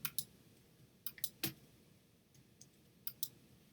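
A computer mouse clicks close by in a quiet room, a handful of crisp clicks spaced irregularly, some in quick pairs, with no talk.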